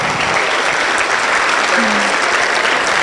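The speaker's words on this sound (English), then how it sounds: "Let's keep clapping until he gets to his seat." An audience at a business forum in a church hall claps steadily and loudly for several seconds, a thick unbroken applause with some crowd voices mixed in.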